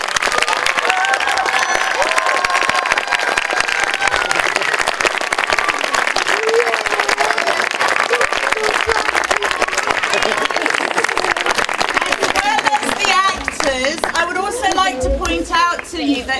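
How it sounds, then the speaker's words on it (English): Audience applause after a senior school drama club's evening performance of Little Women, a steady, dense wash of clapping that fills the whole stretch, with scattered voices and cheers rising toward the end. "So please, another round of applause"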